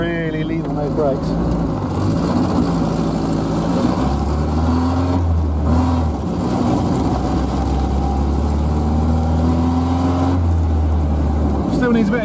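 A Triumph Spitfire engine runs close by with a slightly chuggy, uneven idle and rises in pitch through several revs, with someone talking over it.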